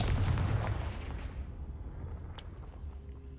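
A Confringo fire spell blasts in Hogwarts Legacy, a heavy booming explosion up front that rolls off into a long, fading rumble, with no speech.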